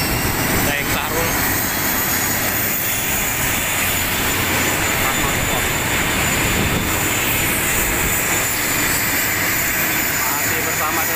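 A loud, steady drone of an airplane engine fills the cabin, constant and unbroken throughout.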